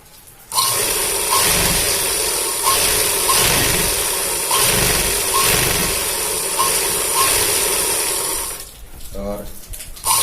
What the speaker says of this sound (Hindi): और इसके बाद में हम इसके साइड में भी सिलाई लगा लेते हैं।